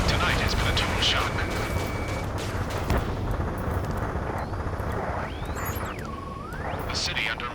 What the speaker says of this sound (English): Gunfire and the roar of jets echoing through the streets